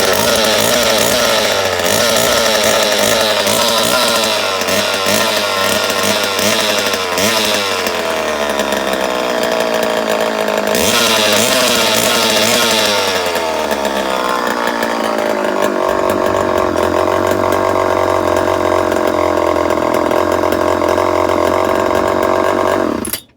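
A Homelite E-Z chainsaw with its clutch removed runs freewheeling and unloaded, its two-stroke engine buzzing loud and steady throughout without being revved, the pitch dipping and shifting slightly before settling into a rougher idle near the end.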